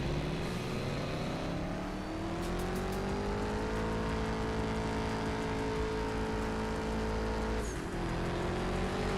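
A car in the CSR2 racing game under nitrous boost, its engine droning loud and steady with a rising whine through the gears, continuous throughout with a brief shift near the end.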